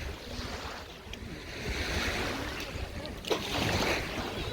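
Sea waves wash and break continuously on a beach, a loud, steady roar with some wind buffeting the microphone and no voices.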